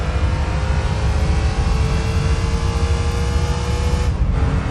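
Gran Turismo 3 race car engines drone loudly and steadily during a Japanese Championship amateur race, a sustained high whine with a brief dip near the end and no talking.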